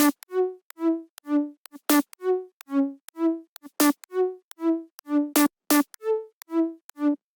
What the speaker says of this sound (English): It's just a distorted saw wave pluck and some white noise.